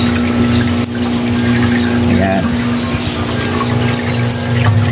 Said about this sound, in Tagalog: Ngayon naman, ginagamit naman natin siya pang refill. So, bilis lang na makarefill ng tubig.